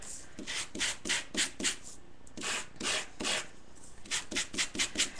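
Fine-grit sanding block rubbed over Core'dinations cardstock to expose its lighter core. Close, dry, rasping strokes come in quick rhythmic bursts with brief pauses between runs.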